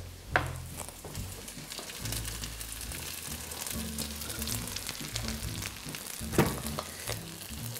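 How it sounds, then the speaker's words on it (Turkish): Pasta stirred in a pan of hot garlic oil sizzles and crackles steadily close by, with soft scraping and a few sharper clatters from the utensil. "Makarnamı bir kere daha karıştıracağım."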